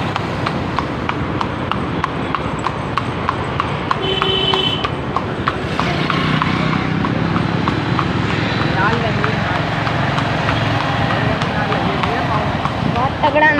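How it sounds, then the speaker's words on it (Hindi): A shod white horse walks close by outdoors, its hooves clip-clopping in a steady, regular rhythm while someone talks continuously over the footsteps. "इधर है घोड़ा, तो मैं आपको घोड़ा दिखाता हूँ"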